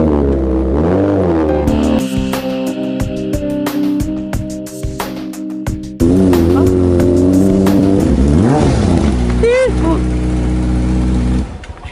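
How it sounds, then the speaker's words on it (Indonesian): A Kawasaki Ninja motorcycle engine revs loudly, its pitch sweeping up and down over a steady musical backing, with voices talking at times. "Ini motor apaan sih? Berisik banget."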